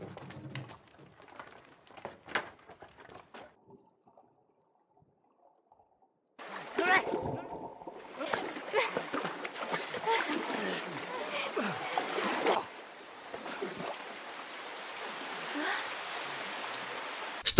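A wide river flows as a homemade raft crosses it, with a rushing stream and splashing water growing louder after a quiet stretch, and voices mixed in.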